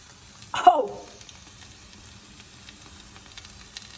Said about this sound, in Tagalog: So let the garlic cook before mix the salt and